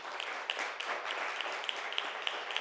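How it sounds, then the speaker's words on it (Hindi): A church congregation applauding, a short burst of brisk, fairly close clapping with sharp individual claps standing out, lasting under three seconds. "क्यों ना ताली"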